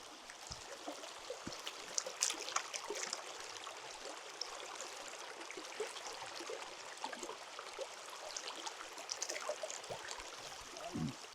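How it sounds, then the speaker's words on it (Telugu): Clear water of a forest stream in Maredumilli, Andhra Pradesh, flows in a steady, soft rushing babble, fairly faint and continuous, with no talk over it. "ఇక్కడ చూడండి ఒకసారి, వాటర్ ఎంత క్లారిటీ వస్తుంది సౌండ్."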